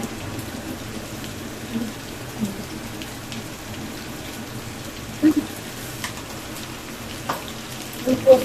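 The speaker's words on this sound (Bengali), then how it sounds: "আলুটা ভাজতে হবে, আলুটা একদম লাল লাল করে ভাজতে হবে" Potatoes frying in a pan until deep reddish-brown, a home-cooked dish with poppy-seed paste: a steady, dense sizzle with scattered louder pops and crackles throughout.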